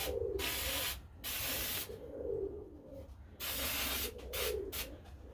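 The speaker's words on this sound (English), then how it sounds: "I'll spray it down real good." Several short hissing bursts of spray adhesive from an aerosol can onto an SOS pad, each lasting about a second, separated by brief pauses, close and fairly quiet.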